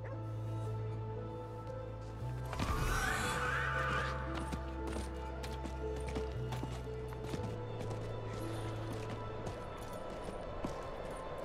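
A horse in Diablo 4 neighs sharply over a steady low hum and background game sounds, with faint hoofbeats and no talking.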